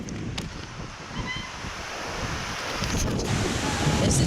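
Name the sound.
wind blowing during a forest walk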